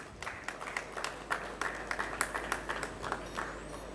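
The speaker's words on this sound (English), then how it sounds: "Please welcome them with a big round of applause." Applause from an audience at an Institute of Chartered Accountants of India session as dignitaries are escorted to the stage: a moderate, uneven patter of several people clapping, fairly faint and steady throughout, with no talking.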